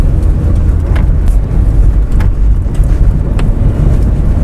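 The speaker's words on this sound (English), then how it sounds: "This clutch chatter though, it's gripping right off the floor" Low, rough rumble and shudder from a D17-engined Honda Civic Coupe EX fitted with a new Yonaka stage 3 six-puck clutch, chattering as it engages, loud and steady with faint road noise.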